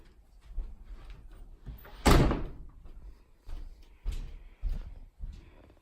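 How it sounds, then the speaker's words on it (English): An apartment door is slammed once with a loud, heavy bang, preceded by quieter shuffling and followed by a few softer knocks and thuds. "Who that round here slamming doors at this hour?"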